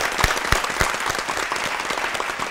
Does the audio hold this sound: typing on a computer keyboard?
no